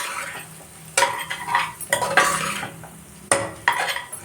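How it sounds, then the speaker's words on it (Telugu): Spice powder being stirred into a cucumber curry in a pan, with several distinct scraping, clinking strokes of a spoon against the metal pan in close, uneven bursts and no talking. "ఇది వేసేసుకొని ఒక్కసారి కలిపేసేయాలి"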